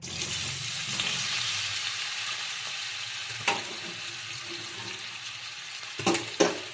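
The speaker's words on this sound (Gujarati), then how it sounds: "તેલ ગરમ થઈ ગયું છે, હવે આપણે એમાં સૂરણ નાખી દઈશું." Pieces of elephant foot yam frying in hot oil in a kadai, a continuous close sizzle with a few louder bursts and spoon clatters near the end.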